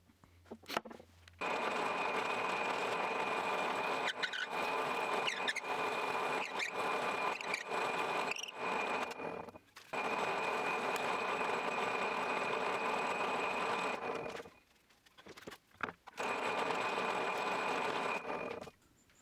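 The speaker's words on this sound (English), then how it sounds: "I'll be drilling this out and further refine the surfaces with a chisel" A power drill bores into the wooden neck of a morin khuur in a workshop, whirring steadily in several long bursts separated by brief pauses and short stops, with no talking.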